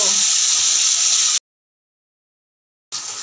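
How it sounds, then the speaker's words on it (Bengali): A fish head rubbed with salt and turmeric frying in oil in a pan: a loud, steady hiss that cuts to abrupt silence for about a second and a half, then resumes. "মাছের মাথাটা সুন্দর করে ভেজে নেব।"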